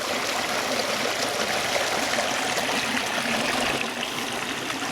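Storm water rushes steadily out of the vents of a spring house, a continuous broad, loud gushing flow with no break and no voices.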